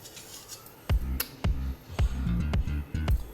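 Pahadi patod, a village-style dish made from leaves, being cut with a knife while held steady with a fork, giving a slow series of distinct knocks and scrapes on the plate, close and fairly loud.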